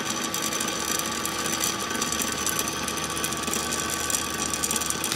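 A Dremel rotary tool spins steadily beneath a magnet held over its center, giving off a continuous close mechanical whirr and buzz with no pauses and no talking.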